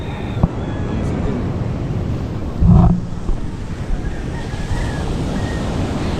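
Rough sea waves surge and wash near a small fishing boat, with steady loud surf and wind buffeting the microphone, plus a brief thump partway through.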